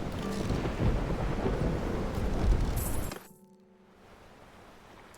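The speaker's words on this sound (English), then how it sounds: "Sailing through the storm is messing us up." Heavy storm rumble and rain wash over a sailing ship in a video game, loud and continuous for about three seconds before cutting off to near quiet.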